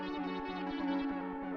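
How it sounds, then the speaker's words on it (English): Reverb effect on a sustained electronic music tone with harmonic layers, steady and faint, a washed-out echoing tail blurring the notes throughout. "I do hear the reverb though, so that's good."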